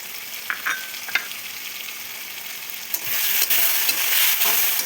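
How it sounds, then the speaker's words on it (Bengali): Potato and pumpkin curry with green chilli paste and ground black pepper is stir-fried in a pan, a continuous near sizzle with occasional spatula taps that swells louder about midway. "এবার ভালো করে তরকারিটা কষিয়ে নেব"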